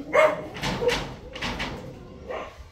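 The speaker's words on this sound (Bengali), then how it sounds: "কুকুরও ডাকতেছে ঘরের মধ্যে, মানে বাইরে ডাকতেছে" A dog barks outside the house, a few short, loud woofs in quick succession with a slight whimpering tone, heard alone without talk.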